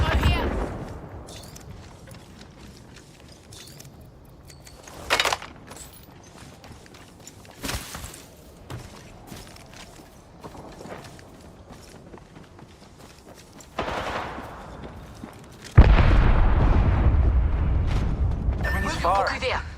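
Gunfire in the battle royale shooter Apex Legends, with bursts of shots and impacts scattered through the stretch and a loud sustained volley near the end, mixed with game effects and a voice speaking over it.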